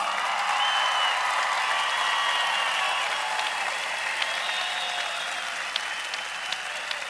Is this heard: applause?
yes